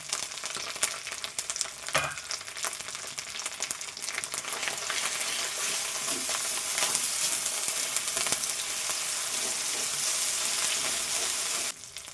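Cumin paste sizzles loudly in a frying pan as part of a Bengali shol fish kalia, a continuous close hiss broken by a few scraping stirs and a brief clatter near the start.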